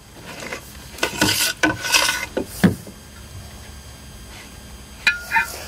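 Cleaning tool rasping and rubbing inside an AeroTech rocket motor liner to clear cutting residue, a few short scraping passes in bursts with quiet gaps between.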